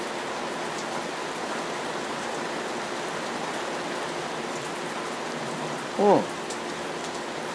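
Rain falling steadily outdoors, a constant soft hiss of drops across the whole stretch, with a brief voice speaking near the end.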